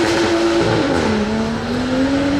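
A sports car accelerating away from a gathering of exotic cars, a loud close engine note that rises, dips with a gear change and climbs again, with no talking.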